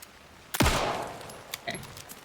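A single loud gunshot from a firearm in the video game Alan Wake II, a sharp crack with a decaying echo, followed by a few fainter clicks and metallic sounds.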